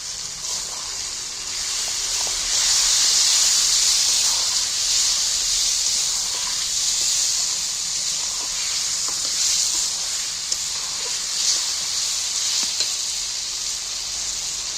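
Tomato paste hits a hot pan for a potato and pea curry and sizzles loudly, a dense, steady, bright hiss that holds throughout with slight swells and no voices.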